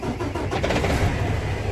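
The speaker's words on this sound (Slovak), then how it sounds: "Našteknem si kamión." A truck engine cranks and catches at a rally-style event, a steady, loud mechanical rumble running throughout with a slight surge as it fires up, close to the listener.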